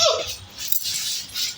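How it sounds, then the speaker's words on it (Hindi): A dog running outdoors in the rain gives a short bark or yip near the start, heard close, with a steady hiss of rainfall filling the background for the rest of the moment. "कुत्ता के आनंद आ रहा है दौड़ने में बारिश में।"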